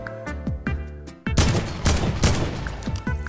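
A heavy assault rifle fires in a video game with a few spaced shots, a brief pause, then a loud, dense stream of rapid automatic fire close up.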